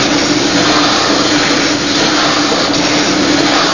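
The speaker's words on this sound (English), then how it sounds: "But the sound of the steam piston is all around at the Antique Engine Museum in Vista, California" Steam piston engine running at an antique engine museum in Vista, California, a loud, steady mechanical roar with a constant hum and no break, heard alone with no voices.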